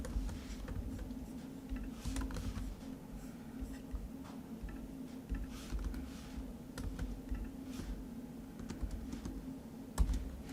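Keys clattering on a computer keyboard in quick irregular bursts, fairly faint and close, with soft ticking taps and brief pauses between runs of typing.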